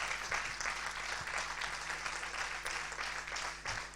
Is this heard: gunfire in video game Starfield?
no